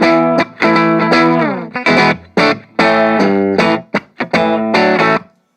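Heavily distorted electric guitar chords through an Orange Crush 20RT amp with bass maxed chug in short bursts with gaps between them, thick and boomy in the low end, loud and close.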